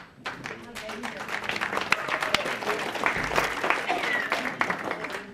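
Applause from guests at a county aging division volunteer recognition dinner, a moderate burst of clapping from a room of attendees with a voice talking over it as names are read.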